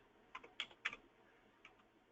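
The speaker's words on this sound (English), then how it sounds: "So excuse me if I have bad typing." Typing on a computer keyboard while filling in an on-screen enrollment form: a handful of quiet, close key clicks in small irregular bursts over a soft background hum.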